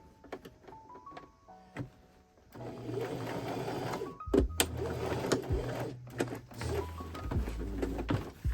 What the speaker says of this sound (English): That's it, that's the last piece that I'm sewing here.